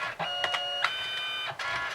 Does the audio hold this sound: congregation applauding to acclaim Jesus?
no